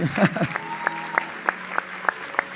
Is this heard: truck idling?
no